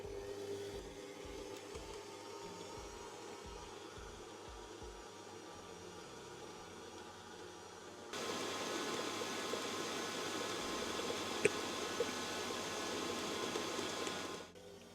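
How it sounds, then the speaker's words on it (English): A stand mixer kneads Scotch bap dough on third speed, a steady motor whir that steps up louder about halfway through and holds evenly, with a low rhythmic thumping early on and no talking. "the dough wants another 8 minutes mixing on third speed"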